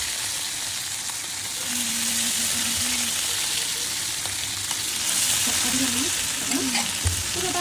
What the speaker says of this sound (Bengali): আর এখানে এটা এখন আম্মু দিয়ে দিচ্ছে কড়াইয়ের মধ্যে ভুড়িগুলা।